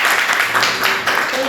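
Brief, loud applause from a group during a university teaching session on bullying, a dense burst of clapping close by with voices mixed in underneath.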